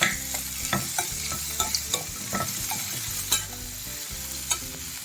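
Thinly sliced onions sizzle and fry in a pan for aloo kurma, with steady crackling and repeated scraping stirs of a spoon against the pan, close and moderately loud, no voices.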